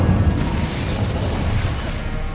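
Incendio fire spell cast in the Hogwarts Legacy video game, a loud, continuous whooshing roar of flame with a deep rumbling body that holds steady for over two seconds.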